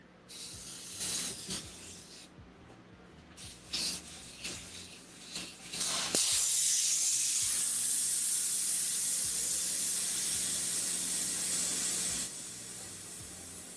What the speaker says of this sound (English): that's basically how you clean out an airbrush